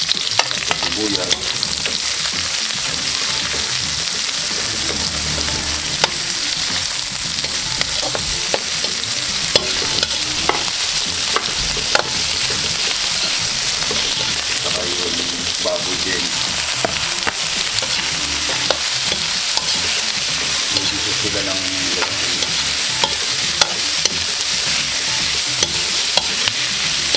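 Onion and garlic fry in a pan for pancit, a steady sizzle running throughout with repeated scraping stirs of a utensil, and no talk.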